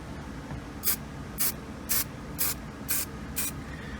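A Color Bond spray paint can coats a leather steering wheel in six short, evenly spaced hissing bursts, close by, over a low steady background.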